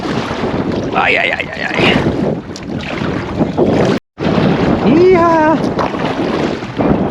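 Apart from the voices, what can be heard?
wind while paddling a kayak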